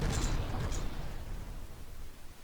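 Battleship guns fire in the naval combat game From the Depths, a booming blast at the start that fades into a low, rolling rumble over a couple of seconds.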